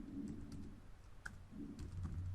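Typing on a computer keyboard, a quiet run of soft key clicks coming in short bursts over a low background hum, close by with no voices.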